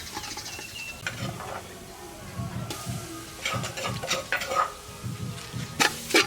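Spice paste gets stirred and fried in a pot, with scraping utensil strokes against the metal and light sizzling in irregular bursts, fairly close and moderate in volume.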